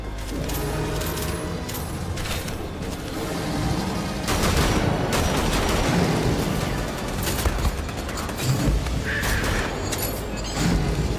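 Heavy gunfire in Wolfenstein: The Old Blood, with dense bursts and booming blasts running continuously at close range, loud throughout and with no voices over it.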